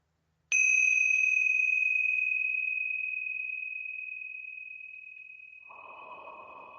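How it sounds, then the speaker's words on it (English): Tingsha bells strike once with a sharp bright ring that sustains as a long pure tone, slowly fading over several seconds in a quiet room, with a faint soft rustle near the end. "I'm just going to start us off with the tingsha bells."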